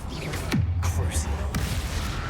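A Crucio spell cast during combat in the Hogwarts Legacy video game: a sharp magical whoosh with a sliding low tone and rumble, followed by a lighter zap near the end, all fairly close and loud.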